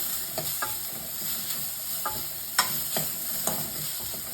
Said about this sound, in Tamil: நான் இதில் சேர்த்து வதக்கிக்கிறேன்.